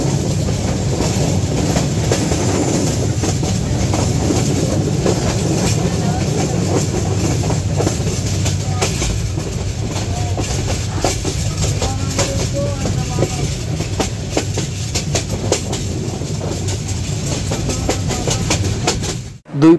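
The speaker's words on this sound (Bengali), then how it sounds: "আর সেই লাইনের উপর দিয়ে ছুটে চলছে পারাবত এক্সপ্রেস" Parabat Express running on rails past tea gardens, heard from the open doorway of a moving carriage: a loud continuous rumble with rhythmic clickety-clack of wheels over joints and faint squeals, steady for about twenty seconds.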